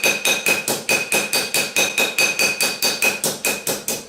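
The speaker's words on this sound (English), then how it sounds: "so I'm going to go ahead and hammer texture it now." A hammer strikes an 18 gauge copper sheet to texture it, about twenty loud, close, evenly spaced metallic blows with a faint ringing tone in a fast steady rhythm.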